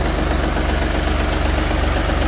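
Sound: engine running after starting up

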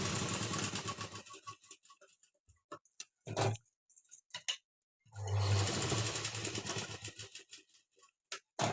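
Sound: sewing machine stitching a garment placket strip

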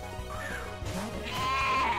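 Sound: sheep-like Pokémon cry in Pokémon Uranium video game

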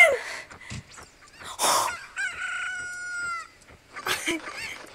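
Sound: chickens clucking in Zelda Ocarina of Time video game

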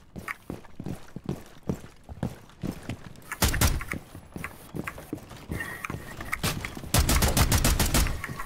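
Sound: shotgun shot in the video game Rainbow Six Siege

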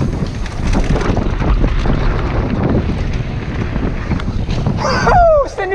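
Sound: wind hitting the microphone while mountain biking

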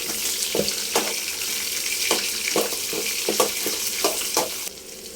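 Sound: green chillies and onions frying in a pan for cashew upma

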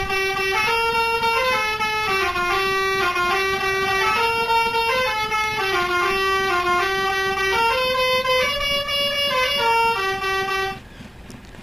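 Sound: horn 1 of STJ Iguazu bus mod in video game BUSSID

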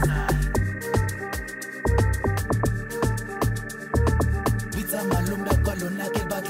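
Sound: amapiano log drum in FL Studio

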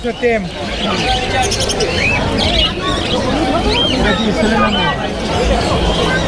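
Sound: birds calling at a crowded bird market

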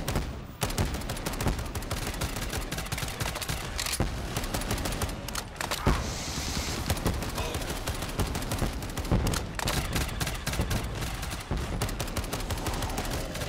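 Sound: burst-fire gun shooting in Black Ops 3 Zombies video game

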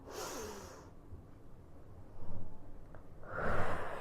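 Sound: breathing in during exercise

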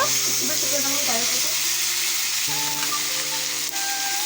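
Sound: chicken being sautéed (kosha) sizzling in a pan

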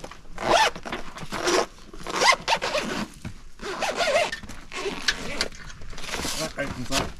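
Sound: unzipping a Dacia Eclipse 180 degree awning cover

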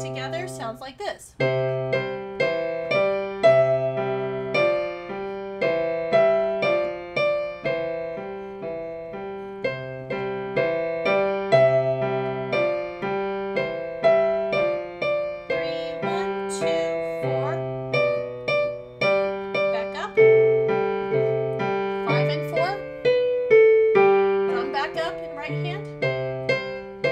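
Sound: piano playing Au Clair de la Lune, hands together

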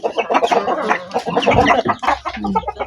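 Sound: chickens clucking while being fed corn bran with rice

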